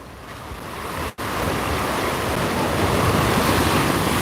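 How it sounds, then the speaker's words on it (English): Ocean surf crashing in Tropical Storm Fay at New York harbor makes a loud, steady broadband roar with wind noise mixed in. It cuts out briefly for an instant, then swells back and builds slightly louder. "Look at those waves, guys, crashing."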